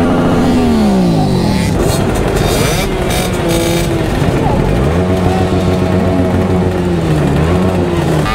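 A group of motorcycles at a Christmas biker rally sets off together, loud and close, engines revving and rising in pitch as several bikes pull away in a line, with voices and crowd noise mixed in.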